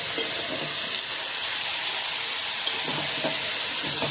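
Mushrooms stirred in a frying pan, about half a kilo, with a steady sizzling hiss throughout and faint scraping of the spoon, no voices.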